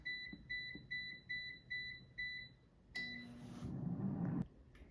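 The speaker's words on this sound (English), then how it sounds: "Now the air fryer is done cooking" An air fryer chimes its done-cooking alert after baking chocolate lava cakes: a series of about six evenly spaced, bright electronic beeps, fairly loud, followed by a cupboard-like clunk and rustling handling noise.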